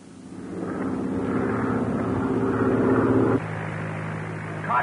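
A droning propeller airplane engine hums steadily overhead, swelling slightly then dropping in pitch as it passes, with a low rumble persisting to the end.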